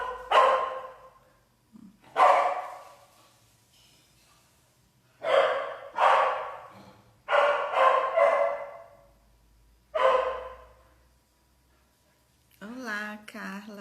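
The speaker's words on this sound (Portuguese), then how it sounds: "Me desculpem pelos cachorros, gente, é inevitável." Dogs bark indoors in a series of loud, sharp bursts spaced a second or two apart, with short pauses between volleys and a brief human voice at the very end.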